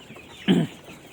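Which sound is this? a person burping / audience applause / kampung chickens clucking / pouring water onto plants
kampung chickens clucking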